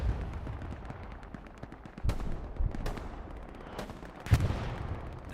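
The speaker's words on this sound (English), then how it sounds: "Artillery strike." An artillery strike pounds during a large 49-versus-49 Hell Let Loose match on the Smolensk map, with irregular distant booms and crackling gunfire over a steady din of battle.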